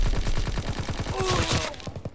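Rapid strafing machine-gun fire from an enemy attack run in a shooter game, a steady burst of evenly spaced shots rattling for about two seconds before cutting off, fairly loud and close.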